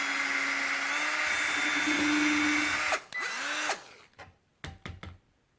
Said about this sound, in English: Just drill it right in between.